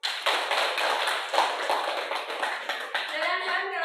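Students in a classroom clap together in quick, dense applause that runs the whole time, with a voice coming through near the end.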